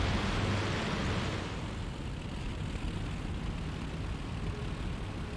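Twin engines of a Bf 110 in the IL-2 flight simulator taxiing toward the runway in cold weather, a steady, loud droning rumble that continues evenly throughout with no talk.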